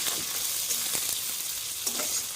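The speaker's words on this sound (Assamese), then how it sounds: "ইয়াতে আপোনাৰ কেপচিকাম দিছোঁ আৰু পিঁয়াজ আছে" Capsicum and onion sizzle steadily in a hot pan, a close, even frying hiss with a few soft stirring scrapes and no voices.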